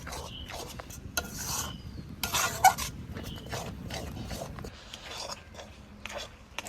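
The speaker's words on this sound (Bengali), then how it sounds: "কাঁঠালের বীজটা আমি চাপিয়ে কড়াইতে আমি 15 মিনিট ধরে নাড়াচ্ছি" A paste of jackfruit seed and cornflour stirred in a wok, giving soft continuous scraping and rubbing with occasional louder scuffs of the utensil against the pan, fairly close and without talk.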